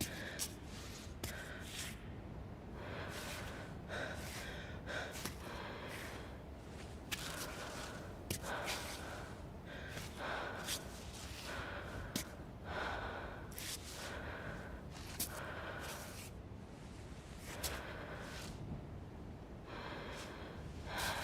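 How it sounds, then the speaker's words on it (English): A female climber character in the survival climbing game Cairn breathes heavily in repeated gasps and sighs while recovering stamina, the bursts coming at irregular intervals over a steady low background, close and fairly quiet. "Is that deep breathing her recovering stamina?"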